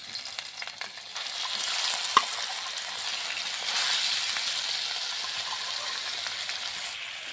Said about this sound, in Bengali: এখন আমরা আলু ভাজা তেলে এই মাংসটা দিয়ে দেব।